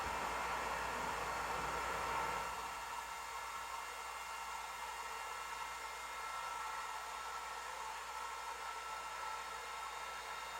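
Longer Ray 5 laser engraver gantry traveling out to 800 mm, a steady broadband whir of the motion system that is louder for the first two seconds, then settles into a fainter constant hum.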